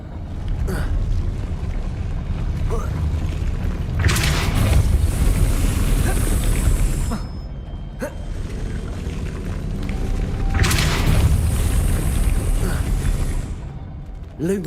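The Depulso spell in the Hogwarts Legacy video game gives two loud whooshing bursts over a steady rumbling game background, each lasting a few seconds.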